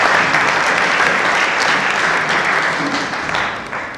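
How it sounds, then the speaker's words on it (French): Audience at a public forum applauds the organizers and speakers, a dense, steady wash of clapping from many hands that stays loud and even, then begins to thin toward the end. "je les invite à applaudir les organisateurs et les orateurs"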